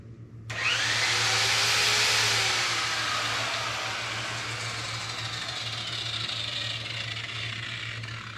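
An electric polisher with a foam pad starts up and buffs polishing compound on a 1999 Ford Mustang convertible, a steady loud whirring hum that sags slightly in pitch under load and runs on without talk.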